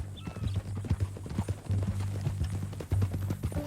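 Horse hooves clip-clopping in the Red Dead Redemption 2 game, a steady quick rhythm of close hoofbeats throughout with a low hum of game sound beneath.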